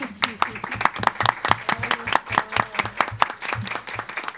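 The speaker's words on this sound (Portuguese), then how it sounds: "Eu queria pedir uma salva de palmas para o Etel e para a Vitória." Small audience at a Brazil–China cooperation event clapping for competition champions, sharp separate hand claps in an uneven rhythm, clearly spaced rather than blended, with some voices mixed in.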